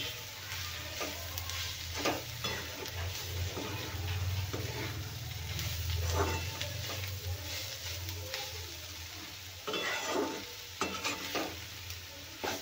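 Coriander powder stirred into a dry ivy gourd sabzi in a pan, a soft continuous sizzle with scattered scraping strokes of the spoon and a low steady hum beneath, no voices.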